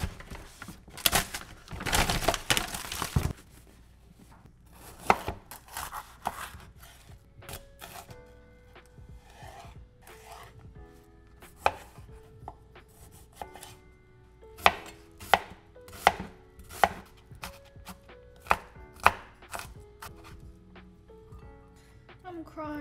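An onion chopped on a cutting board for a HelloFresh meal kit: a quick burst of knife strikes, then slower, irregular chops, with people talking throughout.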